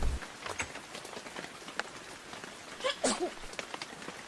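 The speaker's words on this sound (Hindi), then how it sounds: "क्या ये बारिश कभी बंद नहीं होगी?" Faint, steady rain patters on a surface with scattered soft drips, and a brief vocal sound rises over it near the end.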